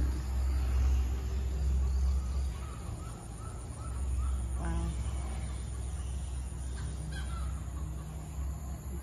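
Chickens cluck and squawk nearby, behind a house with a catfish pond, over a low, constant rumble of background noise, with a few brief calls standing out.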